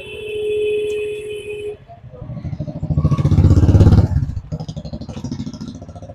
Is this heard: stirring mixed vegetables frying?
no